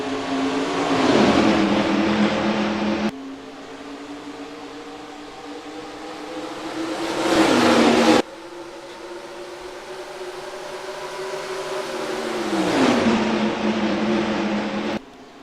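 Race cars in NASCAR Racing 2003 roar up to speed at the green flag at Rockingham, engines rising and falling in pitch as several cars sweep past in loud waves, with no talk.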